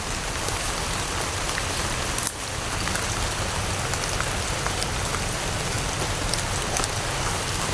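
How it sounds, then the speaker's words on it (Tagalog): Heavy rain pours down steadily, a dense, constant hiss of drops drumming on surfaces, with no voices. "Lakas ng ulan."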